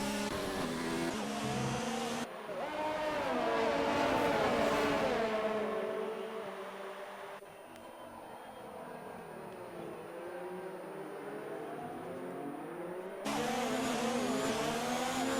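Race cars in an Xbox racing game, a Mercedes among them, roar past with rising and falling engine whines and gear changes, loud and continuous, swelling up close and then dropping back as cars sweep through the corners.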